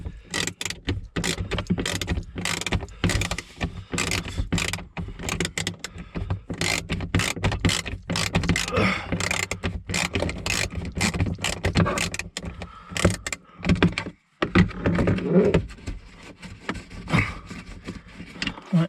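A 1/4-inch drive ratchet unscrews a T20 screw on a 2009 Vauxhall Corsa D, giving a long run of rapid, close mechanical clicks and gear rattles with brief pauses.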